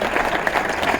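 Brief applause from a church or concert congregation, a short burst of dense clapping at moderate level, with no clear speech on top.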